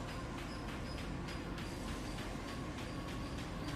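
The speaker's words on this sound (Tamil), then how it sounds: "இத்தனை ஆண்டுகளாக வந்து இந்த ட்ரெயின் ஓடிட்டுருக்கு பாகிஸ்தானில்" A train running on a railway in Pakistan gives a steady, dense rumble with faint regular clacks repeating through the whole stretch, fairly distant and unbroken.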